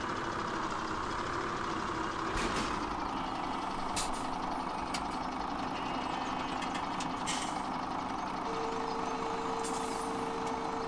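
Truck engine rumbling and idling in a Farming Simulator 17 yard as it pulls out, a steady low drone with brief air-brake hisses and a thin reversing-style tone near the end, moderate and continuous.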